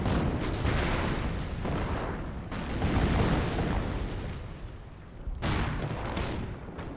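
Dense artillery barrage from a World War II battle in Company of Heroes, US against Wehrmacht forces, rolling booms and explosions overlapping continuously at loud volume, with brief lulls before the shelling swells again.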